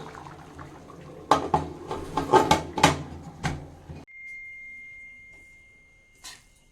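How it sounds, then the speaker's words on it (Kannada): A pressure cooker lid is handled and clanked shut in a home kitchen while cooking mushroom biryani, several sharp metallic clatters and knocks close by, then quiet with a faint tone and one last soft clink. "ಕುಕ್ಕರ್ ಮುಚ್ಚಿಟ್ಬಿಡ್ತೀನಿ"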